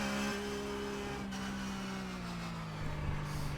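A Porsche 911 GT3 Cup race car engine in iRacing hums steadily at close range, with pitch holding and then slowly falling as the throttle auto-blips, and a brief rise near the end.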